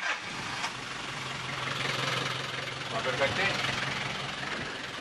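A repaired farm tractor engine idles steadily nearby with a continuous mid-range rumble, and someone speaks briefly over it.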